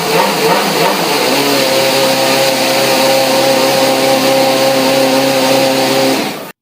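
Formula One car engine at a street show run, firing up and holding a loud, high-pitched revving drone for several seconds before cutting off abruptly at the end.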